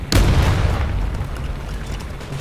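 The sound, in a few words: tank cannon fire in the video game War Thunder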